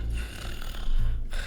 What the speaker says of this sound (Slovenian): srhljiv zvok dihanja